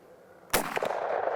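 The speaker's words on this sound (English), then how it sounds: "as soon as it was clear, I went ahead and took an amazing shot on this hog" A Traditions muzzleloader fires once at a boar hog during a Florida hunt: one sharp, loud, close blast followed by a rolling, rumbling echo that lingers over quiet outdoor ambience.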